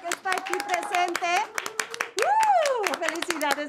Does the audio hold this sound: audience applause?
yes